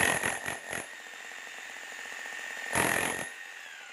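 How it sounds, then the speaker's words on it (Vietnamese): A Makita demolition hammer fires in short bursts, a rapid stuttering hammering that is loud and close, then runs again briefly after a pause with a steady motor hum between. "dập cái búa cho anh em nghe tiếng búa một chút nè"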